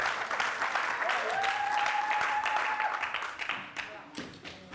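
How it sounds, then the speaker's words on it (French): A church congregation claps and cheers for the glory of God, a dense burst of applause that fades out toward the end while a voice carries over it. "Acclamez pour la gloire de Dieu"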